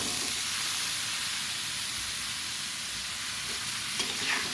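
Bitter gourd pieces, seasoned with turmeric and salt, fry in a pan with a steady, close hiss of sizzling oil that holds evenly throughout, with a slight clatter of stirring near the end and no talking.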